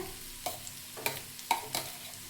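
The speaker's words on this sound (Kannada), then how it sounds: "ಅದಕ್ಕೆ ಸ್ವಲ್ಪ ಬ್ರೌನ್ ಕಲರ್ ಬರೋವರೆಗೂ ಫ್ರೈ ಮಾಡ್ಕೋಬೇಕು ಸಾಕು." Masala is fried in a pan until brown, with a quiet sizzle under a few distinct spatula scrapes spaced about half a second apart.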